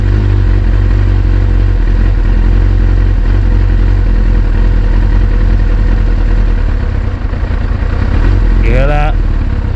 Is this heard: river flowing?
no